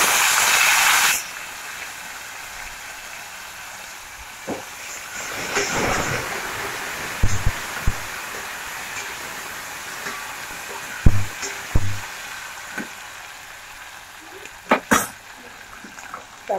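Tomatoes hit a hot pan of browned garlic for a colocasia leaf curry, a loud sizzling burst that quickly settles into a softer steady hiss broken by occasional clinks of stirring.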